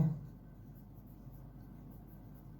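Faint, soft scratching of a coordinate point being written during a maths lesson on coordinate geometry, brief and quiet against a low room hum.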